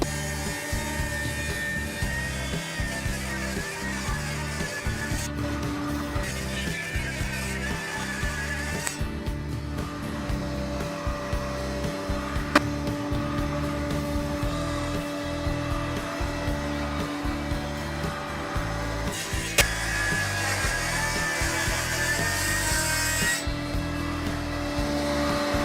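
A table saw rips a board for a bookcase in a woodworking shop with its blade partly raised, a loud continuous whine and roar with shifting load that keeps going throughout.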